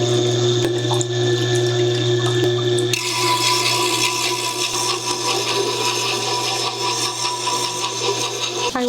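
Tormek T8 wet sharpening system with diamond wheels grinding a bench chisel held in a jig, a steady close motor hum with continuous wet scraping and water noise that thickens and roughens after a few seconds.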